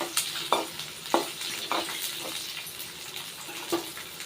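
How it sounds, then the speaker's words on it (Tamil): Three garlic cloves fry in a pan with a soft, steady sizzle, punctuated by periodic light taps and scrapes of a spoon, close and fairly quiet, with no talking. "மூணு பல்லு பூண்டு நல்லா ஃப்ரை பண்ணிடலாம்."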